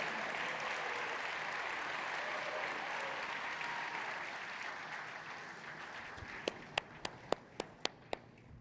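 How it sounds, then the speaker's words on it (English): Audience applause for the Dassault Systèmes R&D team at the 3DEXPERIENCE World 2025 conference, a steady roomful of clapping that thins out toward the end into a few loud, separate claps. "Can we have a round of applause for them?"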